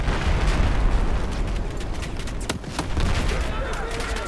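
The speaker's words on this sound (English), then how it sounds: "Good nade, me." A grenade blast in a first-person shooter game, heard as a brief sharp burst amid dense gunfire and game noise, with players talking over the action.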